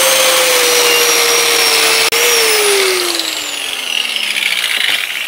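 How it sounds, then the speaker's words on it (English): An angle grinder fitted with a flap disc runs loud and close with a high steady whine, then winds down in pitch as it slows. "You've changed, well, three angle grinders."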